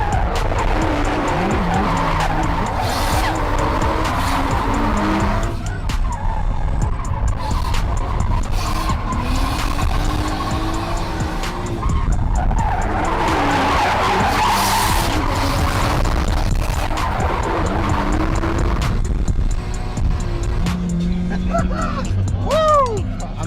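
Drift car sliding hard with tyres squealing and skidding in long bursts, engine roaring beneath, while a person shouts excitedly over the top.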